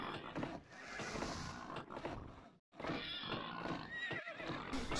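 Horses whinnying amid dense game noise in the medieval strategy game Knights and Merchants Remake, a high neigh rising over a busy clattering bed of sound.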